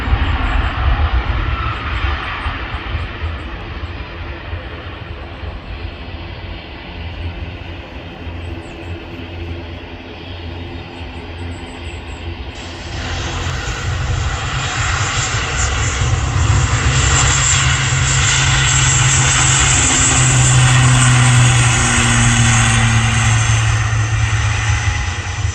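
Jet engines of an Austrian-registered airliner passing a viewing park: a loud, steady roar that swells and brightens as the plane nears, with a sustained whine overhead.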